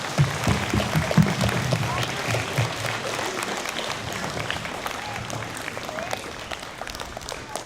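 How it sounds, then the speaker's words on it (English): An audience gathered to honor Nathan, recognized as a hero, applauds in a steady round of clapping that swells early and then gradually thins and softens. "So big round of applause to Nathan."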